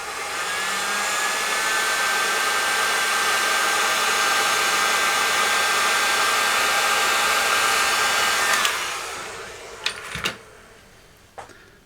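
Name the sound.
heat gun blowing hot air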